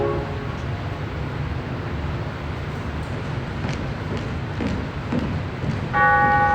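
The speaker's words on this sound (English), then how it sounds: "Bells. Pardon? Bells." Bells ring out over a steady, dense background rumble, with tones swelling near the end as a louder chime sounds.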